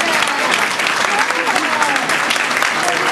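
Loud, dense applause from an audience for a young girl at a Huasteca cultural event in Tampico, filling the whole stretch evenly and close up, with faint voices underneath.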